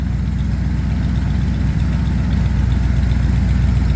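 A Ford F100 truck engine idles through shortened glass pack mufflers, a loud, rough, low rumbling burble that stays close and constant without pause.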